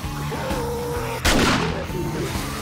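A single sharp, loud gunshot blast in the survival video game 7 Days to Die, cutting through busy ongoing game sounds and then trailing off.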